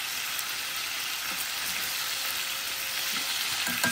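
Homemade tocino fries on low heat in a pan with no water added. It makes a close, steady, even hiss of sizzling fat that runs without a break for a few seconds, with no voices.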